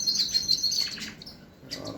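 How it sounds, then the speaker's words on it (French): Pet canary singing indoors among exotic birds, high chirps and trills that run through most of the two seconds at moderate volume with a short lull near the end. "vous entendez le canari de toute façon derrière moi"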